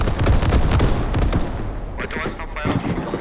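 A Grad rocket artillery barrage in the military shooter game Squad crackles and booms in a rapid ripple of blasts, loud and close, with a few later sharper detonations; voices talk over it.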